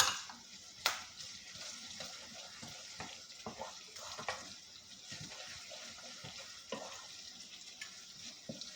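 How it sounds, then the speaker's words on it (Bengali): Coconut fries in a pan for a fish curry, a soft, continuous sizzle with scattered scraping stir sounds and a sharp tap near the start, fairly quiet and without talk. "কোকোনাটটা একটু ভেজে নেব।"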